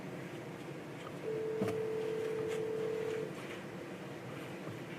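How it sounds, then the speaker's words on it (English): A telephone is dialed during a selectmen's board meeting, a steady tone holds for about two seconds with a brief click, faint over room hum in a quiet hall. "I'm gonna call her, she wants to do it over the phone"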